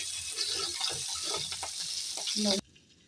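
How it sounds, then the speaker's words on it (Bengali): Khopkhopi fish fries in hot oil in a kadai with a dense, steady sizzle and faint voices under it, before the sound cuts off abruptly. "মাছ ভাজা হয়েছে আমরা তুলে নিচ্ছি প্রচণ্ড ভাজা হয়ে গেছে"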